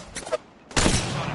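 Gunfire from a first-person shooter game, a few quiet shots early on, then a loud dense burst of rapid fire that carries on to the end.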